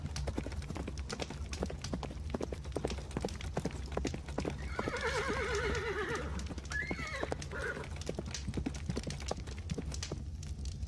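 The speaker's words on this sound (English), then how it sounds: "Wait a minute, I hear a horse." Steady clip-clop of horse hooves throughout, with a horse neighing loudly partway through, close by and clear.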